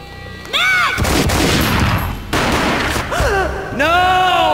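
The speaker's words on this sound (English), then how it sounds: "A gunshot boomed and she fell down in slow motion" Loud gunfire in the video game Max Payne: heavy booming bursts that come in two long stretches, with rising and falling pitched tones between them.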